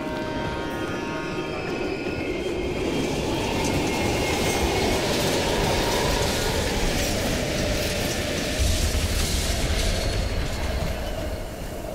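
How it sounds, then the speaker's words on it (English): A train rumbling loudly through an abandoned underground station in the game Call of Duty: Black Ops Cold War, a sustained close roar of wheels and carriages with rattling clatter throughout. "We can use a train to slip past."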